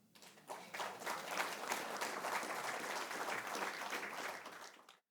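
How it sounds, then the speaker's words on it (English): Young people in a debate audience applaud, a burst of many hands clapping that rises quickly, holds steady and close for several seconds, then stops abruptly. "Seven young people applauding."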